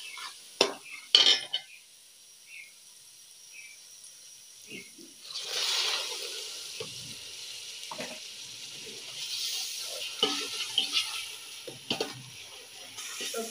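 Tomato paste goes into a cooking pot with scattered clinks of utensils against metal, then a louder hiss and sizzle rise and continue, with occasional stirring knocks.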